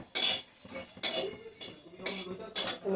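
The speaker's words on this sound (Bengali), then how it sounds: "এগুলো আমি শুকনো করে ভেজে নিচ্ছি" Cloves and whole spices dry-roasting in a pan, rhythmic scraping strokes of a spatula roughly every half second, close and fairly loud.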